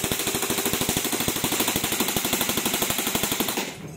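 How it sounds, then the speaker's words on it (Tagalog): An upgraded Noveske airsoft rifle fires a sustained full-auto burst of rapid, evenly spaced sharp clacks, loud and close, lasting several seconds before stopping abruptly. "Yun, full auto natin mga kapatid."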